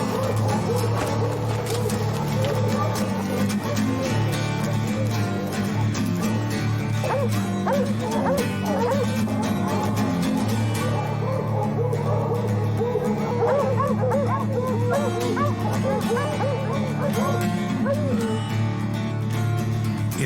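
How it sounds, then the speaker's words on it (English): Hunting dogs tree barking at a mountain lion up a tree: dense, continuous short, sharp, frantic barks and yips from several dogs, loud and close, with no let-up. "It's those short, sharp, frantic barks that tell you the dogs think a cat is on a limb"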